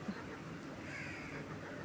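A crow caws once, faint and somewhat distant, over a quiet steady background with no other clear sounds.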